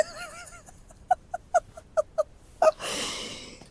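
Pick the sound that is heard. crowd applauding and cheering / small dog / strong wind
small dog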